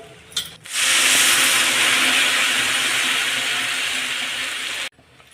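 After a brief clatter, a loud steady steamy hiss of a pot of water with chutney heating toward a boil runs for several seconds, then cuts off abruptly.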